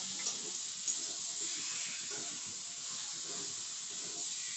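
Chicken coated in ginger-garlic paste sizzles steadily in a pan while being stirred, a continuous close hiss with soft scraping throughout and no talking.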